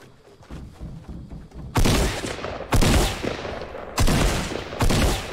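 Loud, close gunfire from the video game Fortnite, four heavy bursts of rapid shots starting near 1.8 seconds, each sustained for about a second, over a low rumbling background with no talk.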